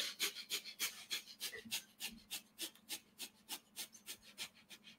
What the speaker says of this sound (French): on va être ici avec notre respiration de feu